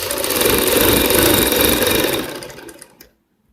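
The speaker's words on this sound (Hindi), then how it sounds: "इस तरीके से दोस्तों हमने ये तीसरी सिलाई शुरू की है" A sewing machine runs a steady, fast stitching burst on a blouse neck seam, close and fairly loud, then slows and stops with a couple of final clicks.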